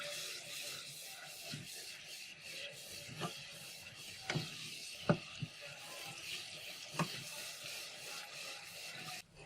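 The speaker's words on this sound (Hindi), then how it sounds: "थोड़ा सा भूनें।" Brinjal and potatoes with red chilli, turmeric and crushed coriander being stirred and roasted in a pan with a little water, soft scraping and rubbing with occasional sharp spoon knocks against the pan, faint and close.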